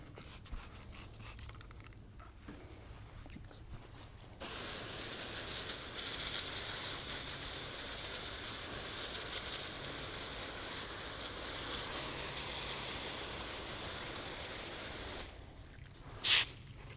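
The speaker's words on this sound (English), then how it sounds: "you can spray the super clean on and let it do its thing for a minute." Super Clean degreaser sprayed onto an RK37 tractor radiator on a farm, a loud steady hiss that runs for about eleven seconds without a break, with quieter rubbing sounds before and after.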